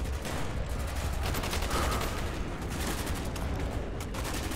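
Dense, continuous gunfire from a Call of Duty Black Ops campaign battle, with overlapping rapid automatic bursts and heavy shots blending into a loud, unbroken barrage throughout.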